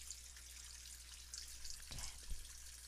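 Tap water runs at a salon shampoo bowl, a soft steady hiss with faint splashes and a few louder gurgles and drips near the end, quiet and close with no talking.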